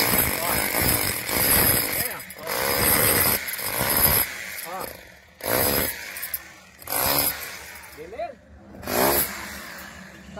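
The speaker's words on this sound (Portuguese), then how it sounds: "você pode estar tá fazendo o adensamento do concreto vibrando" A motorized concrete vibrator compacts fresh concrete in a boundary box form, its loud, close engine whine rising and dropping in repeated bursts while people talk over it.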